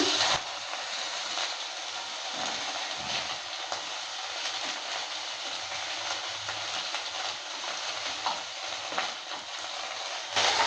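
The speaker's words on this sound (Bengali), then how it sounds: "এবার দিয়ে দিচ্ছি আদা কাঁচা লঙ্কা আর জিরা একসঙ্গে পেস্ট করে নিয়েছিলাম দেওয়ার পরে একটু নেড়ে চেড়ে নিয়ে ভেজে নিচ্ছে" A paste of ginger, green chilli and cumin frying in a pan while being stirred, with a loud, continuous close hiss and sizzle plus occasional scraping strokes and no voices.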